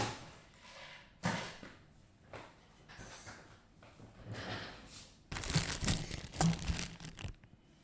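Plastic bag holding model decals crinkles and rustles close by, with scattered soft handling noises early and a louder, denser burst of crinkling toward the end.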